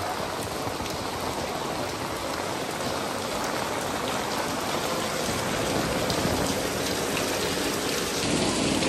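Steady rain falls on a street in an urban village in Xi'an, a dense, unbroken hiss of drops close by that stays loud and even throughout, with no voices.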